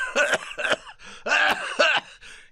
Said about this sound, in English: He began to cough